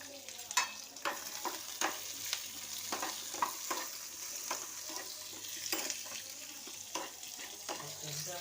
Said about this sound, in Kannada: ಚೆನ್ನಾಗಿ ಗೋಲ್ಡನ್ ಕಲರ್ ಬರೋವರೆಗೂ ಫ್ರೈ ಮಾಡಬೇಕು.